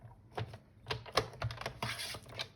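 Paper for a scrapbooking die storage pouch is cut at 15 cm, giving a series of short, crisp scratchy cuts and snips close by, irregular in rhythm, with no talking.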